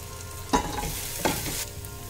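Cumin, turmeric and garam masala roast in a pan with a close, steady sizzle, broken by two sharp scrapes of a spoon stirring the spices.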